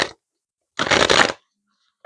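A deck of tarot cards is shuffled in one brisk riffle of about half a second, close and crisp, with brief papery rustles at the start and end and no talking.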